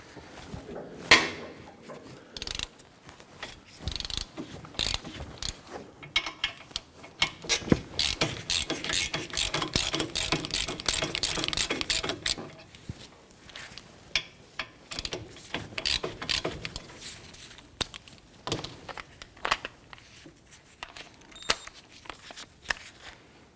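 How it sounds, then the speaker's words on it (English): A ratchet with a 17mm socket loosens and breaks free the front brake caliper bolts on a 2017-2020 Hyundai Elantra: a close, loud stretch of rapid clicking pawl bursts and metallic clatter, with no talk. "Let's go ahead and loosen and remove those. Using a 17mm socket. Go ahead and break these free."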